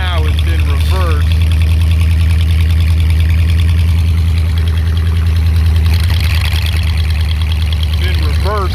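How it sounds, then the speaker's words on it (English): A Mopar 413 engine paired with a 727 transmission idles steadily in reverse on a ground test setup, a loud, close, continuous low rumble without a break. "right now it's in reverse."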